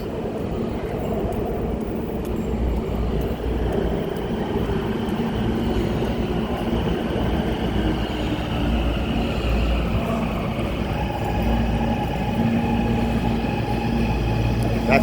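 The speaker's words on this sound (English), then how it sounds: "That train coming up is the wrong train." A Los Angeles Metro train rumbles steadily into Hollywood/Vine Station, loud and close, with a faint high tone rising near the end as it slows.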